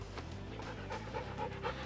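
A puppy pants in quick, steady breaths close by, the rhythm holding evenly for a couple of seconds over a low background hum, with no talking.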